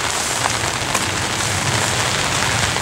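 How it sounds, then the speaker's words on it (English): Steady rain pattering on and around a camera during an outdoor walking tour near a bridge at a lakeside campsite, a dense continuous hiss close to the microphone with no voices. "Look, we got rain on the camera."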